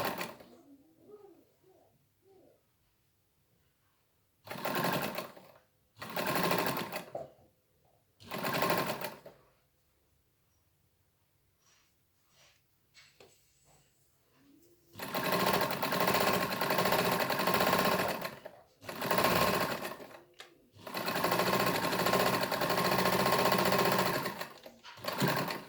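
A sewing machine stitches a French seam in fabric, running in three short separate bursts and then in long sustained runs with only brief pauses. The whirring is close and loud, with no talk over it.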